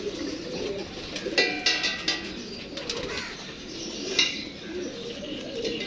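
Pigeons coo softly and repeatedly at close range, mixed with light fluttering of wings and small scratchy movements.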